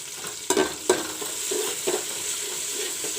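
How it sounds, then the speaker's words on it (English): Tomatoes fry in a hot pan for soya rice, giving a steady bright sizzle broken by a few sharp scraping stirs near the start and softer stirring later. "Now I will put in the tomatoes. Let this also fry little bit."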